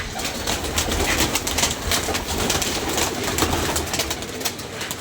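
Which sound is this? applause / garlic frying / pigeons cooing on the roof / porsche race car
pigeons cooing on the roof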